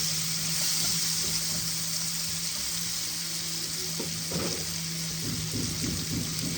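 Chopped onions frying in an open pan for shorshe pabda, a dense and fairly loud sizzle that holds steady throughout, with a faint low hum underneath and no talking.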